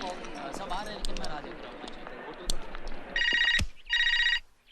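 Talk fills the first few seconds, then a telephone rings twice in loud electronic bursts, each about two-thirds of a second, with a short gap between them.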